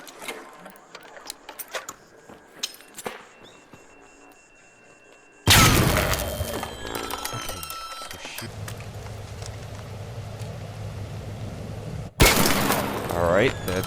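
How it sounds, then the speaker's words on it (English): A heavy fuse grenade detonates in the shooter game Arc Raiders with a sudden loud blast followed by rumbling debris and crackle, after scattered clicks and footsteps, with a second sharp burst near the end. "Or to throw this heavy fuse grenade."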